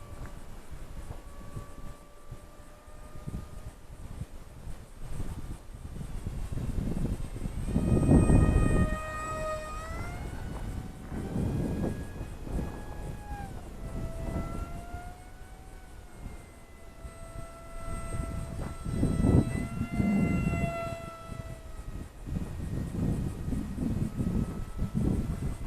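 A small RC micro F-22 Raptor park jet flies past outdoors, its electric ducted-fan whine rising and falling in pitch as it passes near and away, with loud surges and steady engine tone throughout, no talking.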